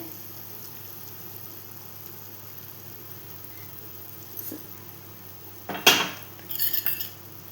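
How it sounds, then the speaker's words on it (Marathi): Metal dish lid lifted off a pan of cooking egg curry masala, a soft knock followed by a sharp clank and a brief rattle near the end, against quiet kitchen hum. "आता इथे आपण डिश काढून घेतोय"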